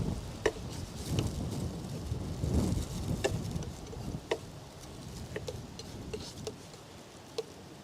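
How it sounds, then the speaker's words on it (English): Strong wind gusts buffet the microphone outdoors during a tree-painting session, a continuous low rumble that swells and eases, with scattered small ticks and taps over it and no talking. "Ooh, really strong wind."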